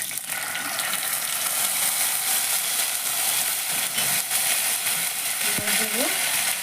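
Cumin paste is added to hot tempering oil for a banana-stem and lentil-dumpling (thor bori) dish, giving a steady, close sizzle and frying hiss, with a sharp utensil clink near the end.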